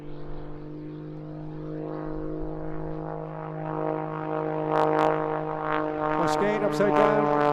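An aerobatic plane fitted with two Lynx jet turbines running on Jet A1 fuel performs at the Eastbourne International Airshow, its steady engine drone rising and falling as it passes, with a commentator talking over it.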